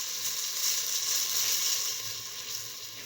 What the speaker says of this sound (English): Now put in the coconut ginger mixture that we ground earlier.